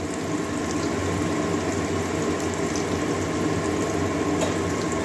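Chopped onion and green chilies tipped into garlic frying in oil, giving a steady, close, continuous sizzle with a faint bubbling texture throughout.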